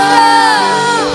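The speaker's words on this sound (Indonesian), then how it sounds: "sama-sama serukan haleluya" A church congregation at a Christmas morning service shouting hallelujah together, a dense sustained roar of many voices that stays loud and steady throughout.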